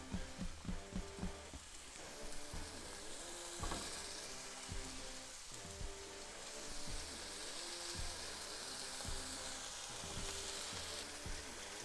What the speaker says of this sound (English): we're getting that sizzle